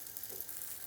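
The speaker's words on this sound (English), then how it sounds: "Hear that sizzle?" Olive oil sizzles steadily in a hot pan as toasted bread cubes fry, a close, continuous crackling hiss with no talking over it.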